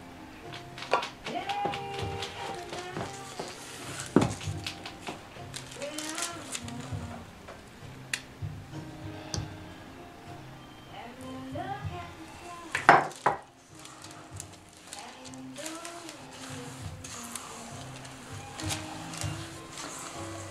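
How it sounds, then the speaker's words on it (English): Sugar scrub being stirred and mixed in a bowl, a steady run of scraping and clinking utensil sounds with a few louder knocks against the bowl, close and alone. "I'll just mix it all in really well"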